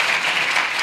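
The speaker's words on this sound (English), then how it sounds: "let's give her another round of applause for her efforts" Sustained audience applause at a science fair awards ceremony, a dense, steady wash of clapping from many hands filling the whole brief moment without pause.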